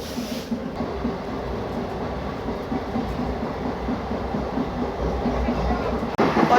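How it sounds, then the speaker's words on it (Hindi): The Dehradun Amritsar Express passes close by a railway station, a steady loud rumble and clatter of rolling wagons lasting throughout, with a sharper burst of noise near the end. "और ये निकलती हुई देहरादून अमृतसर एक्सप्रेस।"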